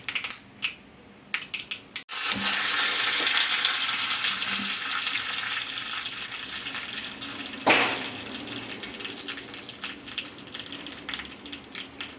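Mustard seeds sizzling and crackling in hot oil in a pan for a yam and prawn curry, a steady loud frying hiss that starts suddenly after a quiet moment and runs on with small pops.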